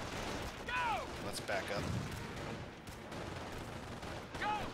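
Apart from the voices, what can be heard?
gunfire in Company of Heroes video game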